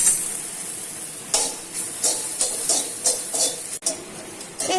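Cumin seeds and dried red chilli sizzle in hot ghee, a steady hiss broken by repeated short bursts of crackling as the pan is stirred, close and fairly quiet with no talking.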